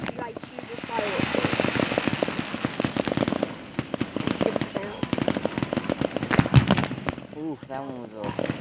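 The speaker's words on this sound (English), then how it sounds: "they start that big thing up and start the giant huge fireworks" Large fireworks display launching and bursting, a rapid crackling barrage of sharp pops and bangs over a hissing roar, with a few heavier booms near the end and people talking faintly in the background.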